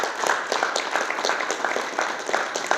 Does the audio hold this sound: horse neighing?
no